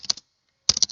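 Two short bursts of keystrokes on a computer keyboard, a command being typed, quick clicky taps separated by a brief silence, close and clear with no talk.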